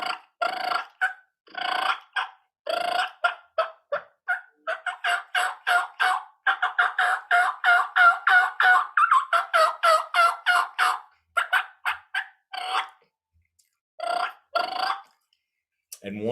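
A person imitates turkey hen yelps and purrs by mouth with rolled lips, making repeated raspy yelping notes in quick bursts and rolling runs, loud and close, with short pauses between series.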